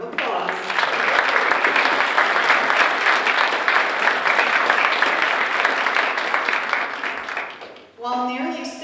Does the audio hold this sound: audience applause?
yes